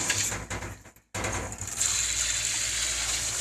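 Fresh water gushing into a microbubble machine, a strong hissing rush that breaks off briefly and then resumes, steady and close.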